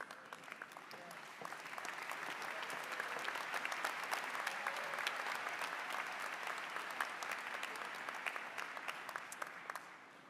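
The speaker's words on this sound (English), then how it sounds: "let's have one more round of applause for all of our graduates this afternoon" Sustained round of applause from a large audience at Hofstra University's mid-year commencement, dense steady clapping for about ten seconds, slightly distant and tapering at the end.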